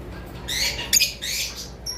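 Violet masked lovebirds kept in a breeding setup give shrill, rapid chirps and squawks in short bursts, fairly close and moderately loud, with no talking.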